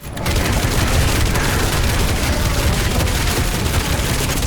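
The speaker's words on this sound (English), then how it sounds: "The shot sound is dramatic yet short, which gives a very crisp feel and works very well in full auto mode." Rapid full-auto shotgun fire from a first-person shooter game, a dense, loud and continuous barrage of booming blasts lasting several seconds with no gaps.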